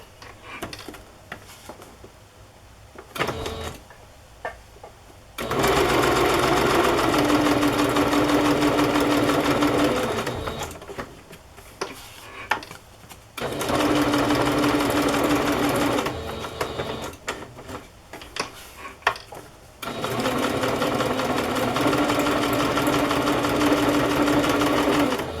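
A sewing machine stitches fabric in three long, loud, steady runs of rapid mechanical whirring, with quieter pauses between them filled by small clicks and handling noises.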